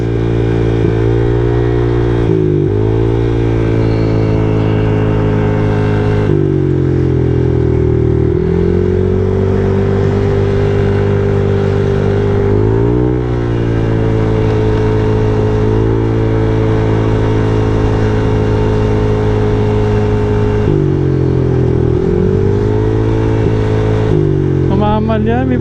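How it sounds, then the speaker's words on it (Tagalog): A Honda Click i125 scooter engine runs at low RPM with a misfire, its loud, close drone holding steady while it rises and dips in pitch and stumbles now and then. "So kanina pag sa low RPM namamalya siya, pero pagdating ng high RPM okay na."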